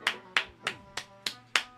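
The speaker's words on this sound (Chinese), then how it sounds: "大家给他拍手" Six sharp hand claps in an even, slow rhythm, close and distinct, each clap crisp with a short decay and quiet gaps between.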